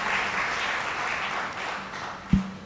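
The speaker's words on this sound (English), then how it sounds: "Another round of applause," Steady applause from a lecture hall audience at an annual lecture, a dense even wash of clapping at moderate level, with a single thump near the end.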